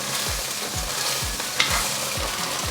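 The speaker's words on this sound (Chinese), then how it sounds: "来煎豆腐。" Tofu pieces fry in a hot pan with a steady, close sizzle, while a spatula scrapes and stirs in a regular rhythm of low knocks about every half second; no one speaks.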